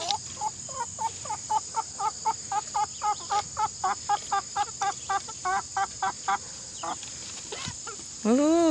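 Chickens cluck and squawk in a quick, repeated series inside a chicken coop, near and fairly clear over a steady high background hum, with a louder call at the end.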